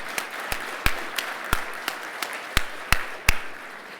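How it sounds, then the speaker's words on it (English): At a law enforcement academy graduation, a few scattered claps ring out, each sharp and distinct with gaps between them, rather than a full crowd roar. "Please join me one more time in a round of applause for these instructors."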